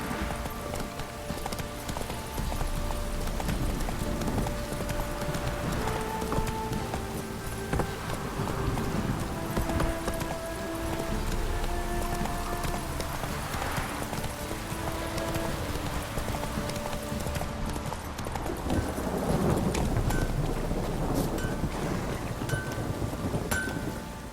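In The Witcher 3, a horse's hooves clip-clop in a steady trotting rhythm under a continuous wash of rain and low rumbling, with held musical tones drifting in the background.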